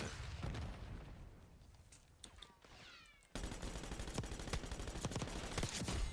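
Pistol fire in Call of Duty, rapid sharp shots crackling alongside other gunfire and in-game effects, growing denser and louder partway through and continuing steadily to the end.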